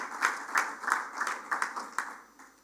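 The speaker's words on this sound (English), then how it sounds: "Can we give them a round of applause?" An audience claps for matric learners at a Gauteng results event, a modest round of applause heard from a distance, with individual claps standing out in an irregular patter that fades toward the end.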